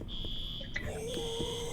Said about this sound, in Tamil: டேய் எவன்டா அலாரம் போட்டு விட்டது?